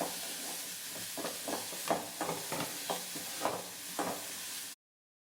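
Finely chopped shallots fry and sizzle softly in a pan, with a rhythmic series of stirring scrapes before the sound cuts to silence near the end.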